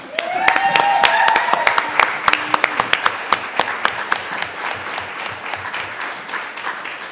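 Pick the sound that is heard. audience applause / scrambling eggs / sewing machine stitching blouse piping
audience applause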